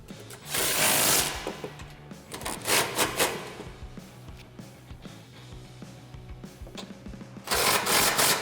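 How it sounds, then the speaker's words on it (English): Power tool with an 18mm socket tightening grille guard bolts onto the frame of a 2015-2017 Ford F-150, heard as loud close bursts of rattling ratchet buzz at the start and end, with lighter clicks and clanks between. "You're going to need an 18mm socket to tighten those up."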